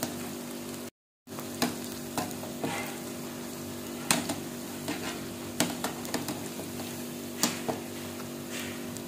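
Palm sprout pakoda deep-frying in oil over a medium flame gives a steady soft sizzle with scattered crackles and pops, with a brief dropout near the start and no talking.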